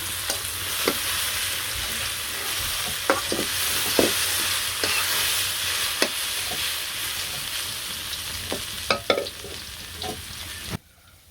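Chachchari of radish, cabbage and potato frying with onion and garlic in a home kitchen, a constant loud sizzle broken by scattered clinks and scrapes of stirring, ending abruptly.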